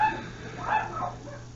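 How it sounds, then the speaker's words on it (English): Dogs barking in the distance, faint yips and a short whimpering bark or two over a low steady hum, with no voices. "There's the dogs barking again."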